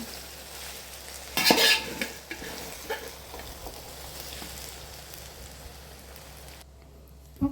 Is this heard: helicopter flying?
no